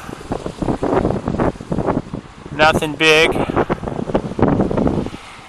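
Gusty wind buffets a microphone outdoors on a chilly, windy day while a DJI Phantom 3 clone drone flies, producing loud rumbling bursts, with someone talking intermittently over the noise.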